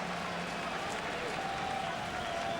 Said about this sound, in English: And there's a buzz in this crowd.